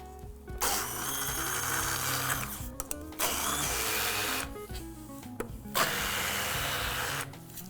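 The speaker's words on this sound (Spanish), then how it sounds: "Y ahora vamos a empezar a trabajar con nuestro mixer" A powerful kitchen mixer grinds pistachios into a paste with no oil added, running loud and steady in long bursts separated by brief pauses.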